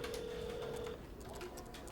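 Telephone at a hospital rings unanswered, a steady electronic tone repeating under muffled voices and background noise, moderately faint.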